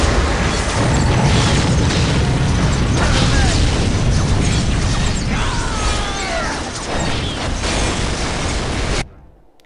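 Loud, rumbling collapse and explosion of a building in the strategy game Dawn of War, a dense roar with clanking mechanical debris, sustained for several seconds before cutting off abruptly.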